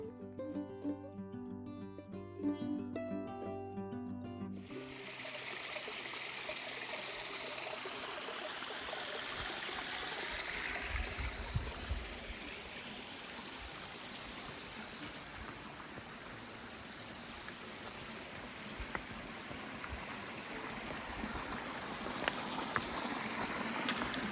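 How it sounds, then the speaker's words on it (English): Water from a stream crossing a hiking trail in Baxter State Park rushes and trickles steadily close by, a continuous broadband hiss that plays alone for over twenty seconds after a brief opening of music. "we're coming to the first of 3 water crossings"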